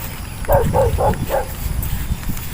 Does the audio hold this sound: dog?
yes